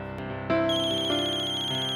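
A mobile phone ringtone rings loudly and steadily, its bright repeating electronic melody carrying on with no talking over it.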